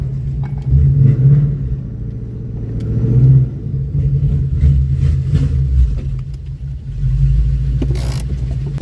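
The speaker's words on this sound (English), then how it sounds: "That was officially the first day test drive in the revamped car." A revamped car nicknamed Phantom on a test drive, its engine a steady close rumble that swells with repeated revving and eases between surges, with no talking.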